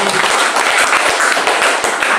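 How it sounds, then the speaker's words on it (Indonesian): Congregation clapping in a church service, a steady patter of many hands with distinct sharp claps, lively and close. "beri tepuk tangan buat Tuhan ya"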